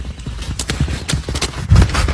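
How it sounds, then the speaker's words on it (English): A horse's hooves clip-clop rapidly and close by on a farm that also keeps alpacas, with a heavy thud near the end. "Can't catch your horse, Charl."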